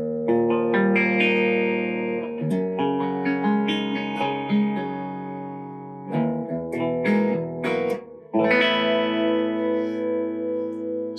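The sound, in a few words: clean electric guitar tone, no effect, slight reverb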